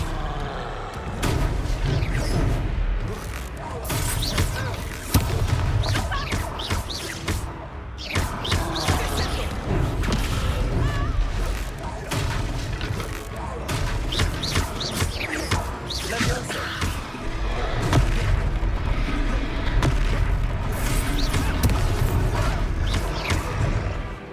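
Spell impacts from an Expelliarmus duel in the Hogwarts Legacy video game: repeated booming, crackling bursts over a dense, constant wash of game music and battle ambience.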